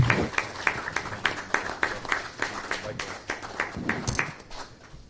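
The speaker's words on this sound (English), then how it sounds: "I'd like the audience to just give them a round of applause and the entire panel as well." Audience applause for a policymaking and governance panel at a public event, a steady patter of many hands clapping with some voices mixed in, moderately loud throughout.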